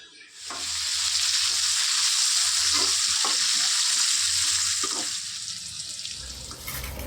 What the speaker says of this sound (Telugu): నూనె కాగాక కాకరకాయలు వేసుకొని దోరగా వేపుకుంటాను